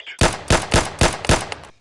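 Five loud, sharp gunshots fired in an even rhythm at targets of decreasing size, close up with no talking.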